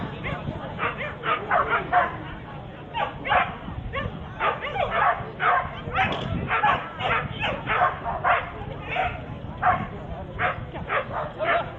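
A blue merle Border Collie, eight years old, barks and yips repeatedly in quick bursts during an agility run, fairly close and loud, with a commentator talking over much of it.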